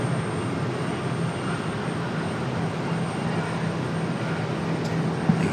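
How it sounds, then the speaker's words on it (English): Aeromexico airliner departing Raleigh-Durham International Airport, a steady broadband engine roar held at an even level throughout, distant rather than close. "Aeromexico headed out to be our 4th international departure of the afternoon"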